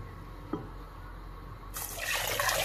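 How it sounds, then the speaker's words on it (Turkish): Meat broth is poured into a pot of soup. A quiet room is broken by a small drip, then a sudden, steady splashing pour takes over for the final second. "Şimdi artık et suyunu ilave ediyorum."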